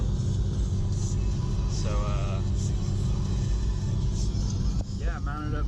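A MK4 VW Golf R32 cruising around town, its steady low engine and road rumble droning from inside the cabin while a person talks over it.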